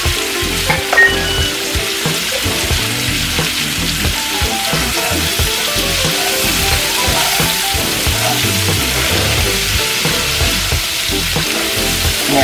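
Potatoes fry in bacon fat with a tablespoon of added oil, giving a steady, loud, close sizzle and crackle throughout, with occasional stirring scrapes and no talking.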